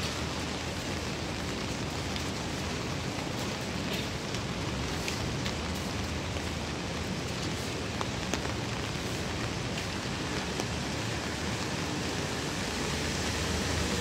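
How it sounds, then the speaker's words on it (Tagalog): Steady rain falls on a wet morning in Macau, a dense, even hiss of drops on surfaces, close and unbroken throughout with only faint scattered heavier drips. "Maulan na umaga."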